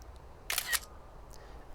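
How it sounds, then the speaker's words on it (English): An iPhone camera shutter clicks once, a quick double-snap burst standing alone against a faint background hiss, with a fainter tick shortly after. "this shutter sound should have been recorded into the screen recording"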